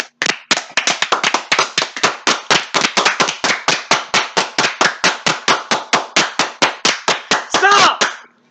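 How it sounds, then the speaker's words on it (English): A single person claps loudly and evenly, around thirty sharp close claps in a steady rhythm, with a brief vocal whoop at the end, on a comedy gaming podcast. "Let's give him a round of applause,"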